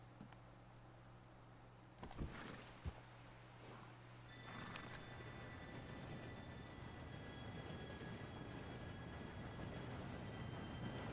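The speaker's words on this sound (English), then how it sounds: "Train should be here any minute now." In Red Dead Redemption 2, a train arrives as a faint, steady rumble of rolling wagons, with a couple of brief knocks early on before the low rail noise swells and holds.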